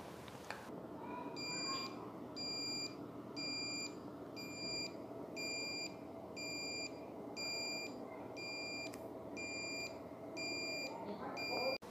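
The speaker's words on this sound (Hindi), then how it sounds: "इस वाइब्रेशन के कारण हमें बीप साउंड सुनाई पड़ रही है" A piezoelectric ceramic element, vibrating under applied voltage as part of an engine knock sensor demonstration, gives about a dozen short bright beeps in a steady regular rhythm over a low background hum.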